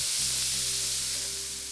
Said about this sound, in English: So while this bison is getting nice and golden brown